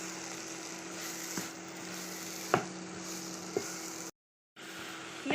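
Grated raw mango cooking in melted sugar with cinnamon and cardamom in a pan, being stirred until dry: a steady soft sizzle with a few sharp scrapes of a spoon against the pan, briefly cutting to silence near the end.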